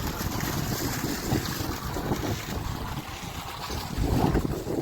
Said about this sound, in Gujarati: એવો તો પવન છે બરાબર.